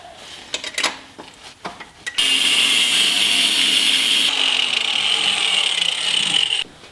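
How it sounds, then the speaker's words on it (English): A power tool cuts down a bolt after a few light handling knocks, its high steady whine with grinding metal starting abruptly and running for about four seconds, loud and close before stopping. "I need to trim this bolt down"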